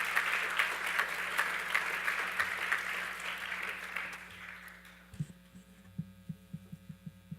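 Audience applause for the speakers at an event kickoff, a sustained broad clapping that fades after about five seconds, leaving a steady mains hum with a few soft thumps.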